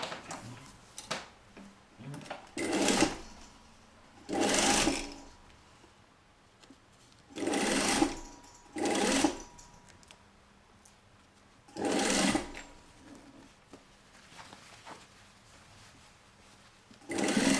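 A sewing machine runs a 1 cm seam along a corset with a basque, in several separate bursts of stitching with quiet pauses between them.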